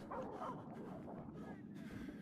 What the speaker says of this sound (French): Oh, y'a des chiens.